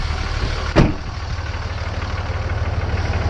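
A Cummins turbo diesel engine idles steadily on all six cylinders after an engine swap, a loud, close, even low rumble with one brief knock early on and no talking.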